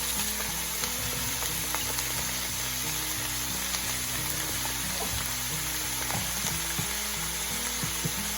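Potatoes dropped into a pot of hamburger soup on the stove give a steady low sizzle and bubbling simmer, with occasional soft stirring clinks, close and continuous without any talk.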